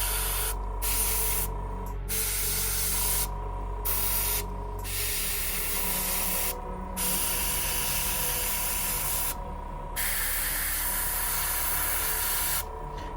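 An airbrush sprays paint onto a miniature's tentacles in a steady close hiss broken by short pauses, alongside a low background hum.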